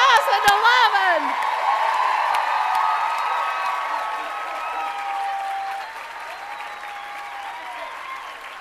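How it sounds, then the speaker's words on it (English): Applause and cheering for graduates at the 2011 USC Annenberg School of Journalism commencement ceremony: a large crowd claps steadily with whoops, starting loud and slowly fading over several seconds. "Please join me in a round of applause for our graduates"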